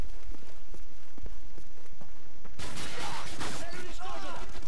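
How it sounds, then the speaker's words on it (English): Gunfire rattles in the war video game Call of Duty: MW3, with a burst of rapid shots and loud crackling noise breaking out after a quieter stretch of distant game sounds. "One guy shooting."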